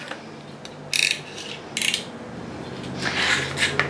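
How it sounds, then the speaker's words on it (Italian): A paper trimmer slices along a photo for a scrapbook layout, two quick bright swipes of the blade followed by a longer sliding cut, close and fairly loud with no speech. "Con il tagliabalza"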